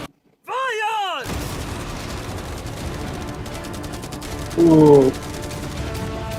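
A barrage from a hundred cannons in a MrBeast video rumbles and crackles continuously after a whistling sweep, with voices reacting over the noise and a short exclamation partway through.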